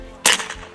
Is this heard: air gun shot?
yes